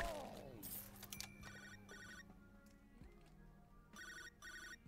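A phone rings in the video game High on Life, repeated electronic ring bursts starting, pausing, then sounding again over a low game soundscape, with a brief voice near the start.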